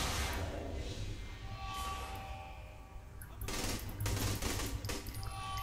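Gunfire in the video game Saints Row 3 Remastered, dense sustained bursts of automatic shooting that swell louder in the second half, rapid and continuous, with loud game sound throughout.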